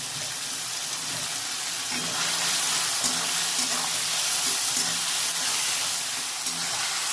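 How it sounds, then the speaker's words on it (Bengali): Potatoes fry in oil with salt and turmeric, giving off an even, continuous sizzling hiss with faint stirring bumps and no voices. "পরিমাণ মতন নুন আর পরিমাণ মতন হলুদ দিয়ে আমি এটাকে ভেজে নেবো"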